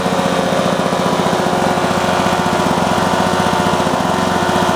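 A Lawn-Boy model 8243 lawn mower runs close and loud with its drive unit engaged, a steady buzzing small engine with a rapid, even pulsing throb and no speech over it.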